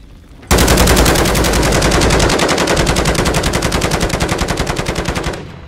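Sentry gun in Call of Duty: Modern Warfare 3 (2023) opening up after a brief quiet lead-in with loud, sustained rapid automatic fire, a dense rattling burst running about five seconds before cutting off.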